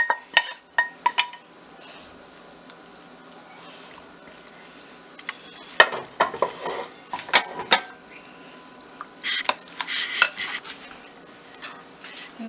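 Fried onion and carrot being stirred into batter: intermittent clinks and scrapes of a spoon against a bowl, with wet mixing sounds in uneven bursts and quiet gaps between them.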